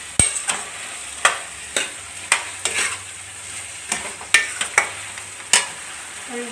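Homemade cumin and chilli powder with bay leaves frying in hot oil while a spoon stirs the pan, giving repeated scraping strokes over a steady close sizzle for an Assamese jackfruit curry.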